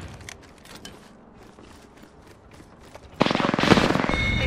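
A video-game firefight erupts as enemies open fire on the player: after a quiet stretch, a loud, sustained burst of rapid automatic gunfire rattles close by without pause.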